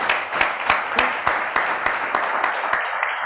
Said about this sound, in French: Je vous demande d'accueillir bien fort, avec un tonnerre d'applaudissements,